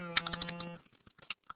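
Several people typing on computer keyboards in a classroom, soft irregular key clicks scattered across the moment, close and fairly quiet, following a brief sustained tone at the start.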